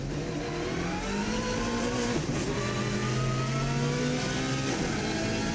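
A race car on an Isle of Man TT lap brakes hard and downshifts into second gear toward Ramsey Parliament Square, its engine note rising and falling through loud, continuous revving heard close from onboard with no talk.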